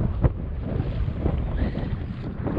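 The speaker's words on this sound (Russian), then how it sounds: "слышно шумят волны, я их вижу" Steady wind rushing and buffeting over choppy lake water with waves, continuous broadband noise and no voices.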